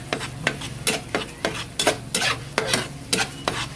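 Beaten egg frying in a pan while being stirred: a utensil scrapes and taps the pan in a quick, regular rhythm over a continuous sizzle, close and fairly loud, with no talk.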